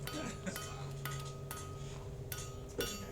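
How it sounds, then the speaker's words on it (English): Blacksmith noises played as a sound effect during a tabletop role-playing session: a rhythm of bright metallic clinks and rings, roughly one every half second, over a steady low background hum. "Blacksmith noises, finally."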